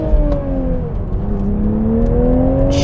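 A 2023 Toyota Supra 3.0 with a manual gearbox accelerates on a night drive, its engine note climbing in steady rising tones over a constant low road rumble, loud and close from inside the cabin.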